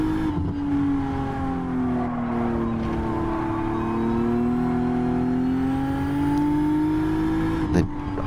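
Race car engine in a racing video game at Fuji, a loud, steady, high-pitched drone held in third gear with slight pitch swells over bumps, then a short shift blip near the end.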